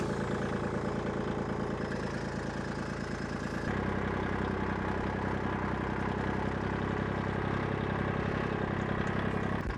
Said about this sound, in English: So I'm going to go grab the tractor.